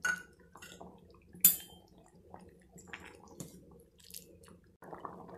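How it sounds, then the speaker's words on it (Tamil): Vathal kuzhambu is stirred in a pot, making quiet, scattered spoon clinks and soft wet scrapes against the metal, separated by near silence. "சேர்த்து நல்லா கலந்து விட்டுறேன்."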